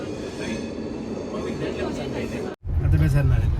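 A train rumbles steadily nearby, a continuous rolling drone that briefly drops out and returns heavier, with people talking over it.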